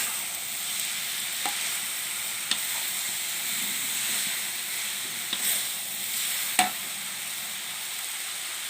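Steady hiss of vegetables stir-frying in a pan for Thai stir-fried noodles, with a few sharp clicks of a utensil striking the pan now and then.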